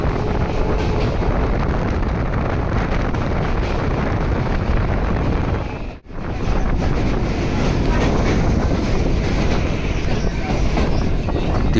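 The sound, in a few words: local train running between Balighat and Balihal stations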